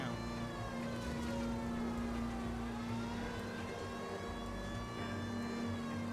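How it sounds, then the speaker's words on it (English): Police car siren from the LA Noire video game wailing steadily in a sustained rising-and-falling tone, moderately loud over a busy game mix with a constant low hum underneath. "Can't you hear the sirens, buddy?"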